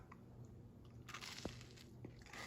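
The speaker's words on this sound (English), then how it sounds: "Y'all heard that crunch? Yeah, that's a nice crunch." A quiet, close crunch comes from someone biting into a buttery grilled cheese sandwich, followed by faint chewing, with no talking.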